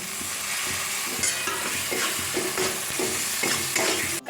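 Chopped tomato frying with chilli powder, turmeric and salt for a katla fish and ridge gourd curry, a continuous close sizzle with rhythmic stirring strokes roughly every half second, with no talking.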